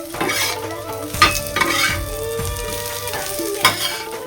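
An egg omelette fries in a pan with a steady bright sizzle, a few sharp utensil scrapes and taps cutting through close by, no talking.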